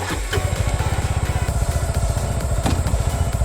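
A Suzuki Gixxer SF 250 motorcycle idles close by, its engine firing in a quick, even, steady rhythm for the whole stretch after a brief start.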